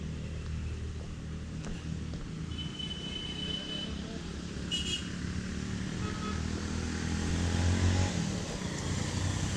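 Vehicles stuck and straining on a steep uphill road on the way to Lonavala, engines droning and revving continuously at mid distance, swelling louder near the end with faint clanks.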